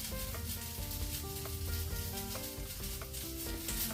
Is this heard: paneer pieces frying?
yes